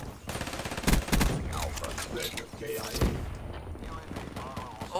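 The HLX 4 gun firing in a video game, loud bursts of rapid shots with heavy mechanical punch, recurring across the whole stretch while a man briefly exclaims.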